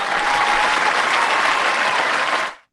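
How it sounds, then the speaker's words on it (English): Steady crowd applause played as a sound effect on a music talk show, a dense wash of clapping hands that holds at full loudness for over two seconds, then cuts off abruptly. "I've got some clapping."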